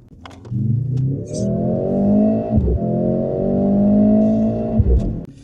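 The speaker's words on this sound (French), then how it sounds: "il accélère plus fort que la Porsche, que la 718" A 700-horsepower sports car engine revs hard and climbs through the gears, a loud rising roar with a brief dip at a shift.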